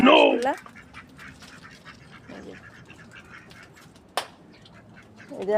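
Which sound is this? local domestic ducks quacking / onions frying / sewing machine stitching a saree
local domestic ducks quacking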